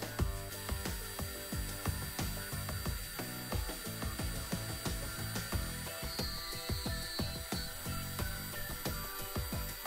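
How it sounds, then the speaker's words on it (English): A Proxxon milling machine drills a guide hole in a walnut strip, giving a steady, quiet mechanical whir with rapid rhythmic ticking and clicking throughout. "I started by creating a guide hole with the help of the Proxon milling machine"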